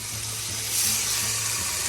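Pieces of pork belly browning in a hot pan, a steady close hiss and sizzle of fat that swells slightly partway through, continuous over a low hum, with no voices.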